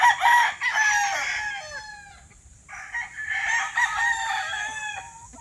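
A rooster on a small backyard chicken farm crows twice in a row, loud and close, each call rising and then trailing off.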